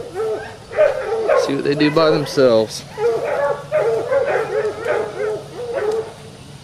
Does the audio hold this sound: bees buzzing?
no